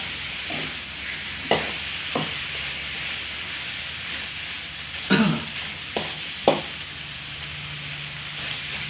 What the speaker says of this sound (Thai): ผัดให้สุกนะครับให้น้ำมันออกเลย